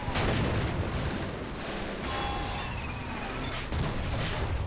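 Heavy gunfire and artillery in a realism-modded war game trench battle: a dense, continuous roar of rifle and machine-gun fire mixed with booming explosions, steady and loud throughout, with no talking.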